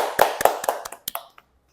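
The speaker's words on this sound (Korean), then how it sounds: "자, 박수 주세요." Several people clap in a short, close burst of applause for a guest introduced at a gym business and sports academy event, the claps strong at first and thinning out within about a second and a half.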